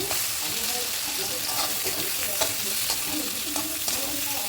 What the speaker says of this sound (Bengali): এবারে আমি ওই মাছ ভাজার তেলেই স্লাইস করে কাটা পেঁয়াজ দিয়ে একটু ভেজে নেব